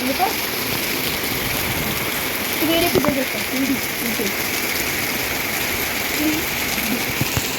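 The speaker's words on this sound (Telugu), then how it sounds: "చాలా వర్షం పడుతుంది ఫ్రెండ్స్ ఇక్కడనైతే" Steady heavy rain from a windstorm hisses without a break, with floodwater flowing nearby and a voice speaking faintly beneath the downpour.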